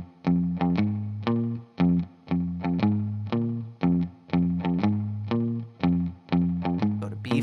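Electric guitar with an effects unit playing the Green Onions riff over its first bars, a steady repeating pattern of punchy, chorused notes with evenly spaced accents, close and clean with no talking.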